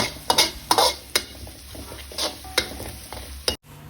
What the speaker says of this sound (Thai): พอน้ำมันร้อนแล้วใส่พริกกระเทียมที่เราโขกไว้ลงไป ผัดให้มีกลิ่นหอมเลยนะครับ